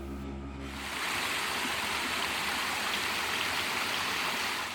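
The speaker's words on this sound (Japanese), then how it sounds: "この雪解け水が流れる音を聞きながらさらに歩いていきます。" A snowmelt stream near Zermatt on the Gornergrat to Riffelalp hiking trail. After a quiet second, a close, loud, continuous rushing of water fills the rest of the clip.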